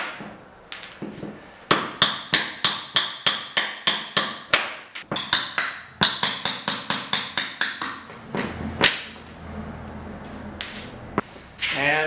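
Sharp hammer blows knock out shallow nails from small wooden blocks holding a cleat down on a boat-building table, a fast run of about a dozen crisp strikes followed by a second burst, then scattered knocks and scraping.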